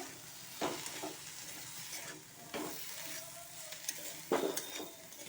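A ground paste of cumin, mustard seed, fennel, coriander, poppy seed and chili sautés in a pan with a soft sizzle, broken by a few sharp spatula stirs and scrapes, fairly quiet and close.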